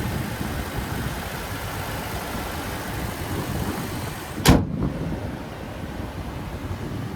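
A 2023 Toyota Tacoma SR Access Cab's naturally aspirated 3.5-liter V6 idles with a steady, even rumble under an open hood, interrupted midway by a single sharp thump.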